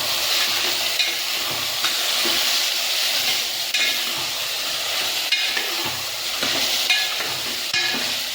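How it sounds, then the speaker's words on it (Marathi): Chicken frying and being stirred with tomato and onion in oil for a village-style Kolhapuri chicken rassa, a steady close sizzle with soft scraping stirs throughout and no voices. "चिकन टोमॅटो कांद्यामध्ये मिक्स करून घेऊ।"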